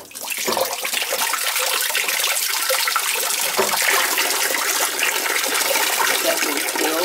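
Water gushes steadily from the drain of an IBC condensing boiler being flushed, a loud, continuous splashing flow filling the whole stretch without pause.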